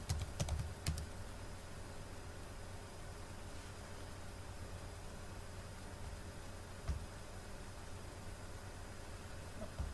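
Keystrokes on a computer keyboard while entering address records into a mail merge list, a few quick clustered taps near the start and a lone tap later over a steady background hiss.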